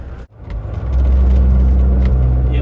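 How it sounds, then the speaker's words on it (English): Crane engine rumbling near a truck at a roadblock, a deep heavy drone that cuts briefly then swells in and holds steady and loud. "Yep, that's a crane."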